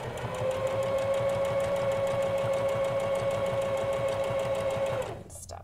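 A sewing machine stitches a fabric mask in a steady, loud, rapid whirring run lasting about five seconds before stopping abruptly, followed by a brief rustle.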